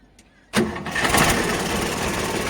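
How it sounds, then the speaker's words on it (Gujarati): A Sonalika DI 42 RX tractor's diesel engine is self-started: after a brief quiet moment it catches abruptly, then settles into a loud, steady running roar close by. "હવે આપણે એન્જિનને સ્ટાર્ટ કરીને જોઈએ।"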